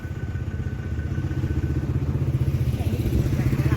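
A motorcycle is ridden along a road in Laos near a funeral gathering, its mid-pitched engine droning steadily and close, with a rhythmic pulsing clatter and voices talking underneath throughout.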